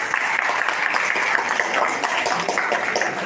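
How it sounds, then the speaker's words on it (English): An audience at a college personality development session for law and business students bursts into dense, steady applause, many hands clapping at once with an even, sustained roar throughout. "Congratulations and applause to her, please."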